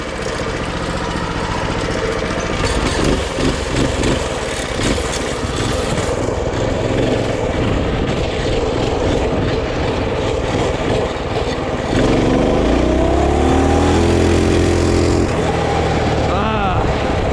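A small, cheap minibike engine runs loud and close throughout a ride, a steady buzzing drone that revs higher and swells near the end.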